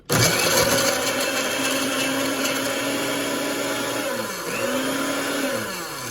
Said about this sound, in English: So we've got the blender on the base. And I think I'm going to grind.